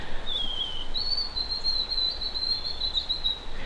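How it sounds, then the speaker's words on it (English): A white-throated sparrow sings in the woods, one thin, high, pure whistled song of a few sustained notes, clear and fairly close over soft background hiss. "that's probably the loudest white-throated sparrow that I've ever heard in my life."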